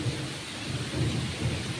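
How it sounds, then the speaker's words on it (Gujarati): Heavy rain pours steadily during a thunderstorm in Dwarka district, with low rumbles of thunder rolling beneath the constant wash of water, with no voices present. "ગાજવીજ સાથે પાછો વરસાદ પડે"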